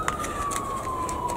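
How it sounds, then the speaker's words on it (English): An ambulance siren passes outside a kitchen garden, one moderately distant, steady wailing tone that glides slowly downward in pitch over a soft background hiss. "It's an ambulance."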